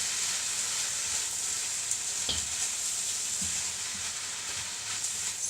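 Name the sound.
stirring sweet and sour chicken frying in a pan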